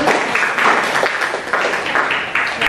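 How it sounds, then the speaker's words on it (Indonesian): A crowd applauds steadily for a few seconds, dense clapping from many hands filling the room. "Terima kasih Mbak Isma, kita kasih tepuk tangan dulu."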